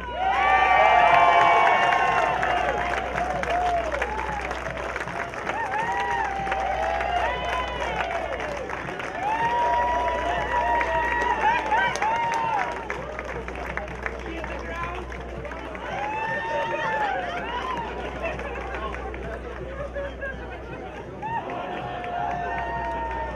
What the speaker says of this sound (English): give your duos another round of applause